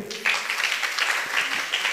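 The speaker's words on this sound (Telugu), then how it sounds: "చప్పట్లు కొట్టండి" An audience at a church Sunday gathering claps together in a warm, continuous round of applause that lasts through the whole moment.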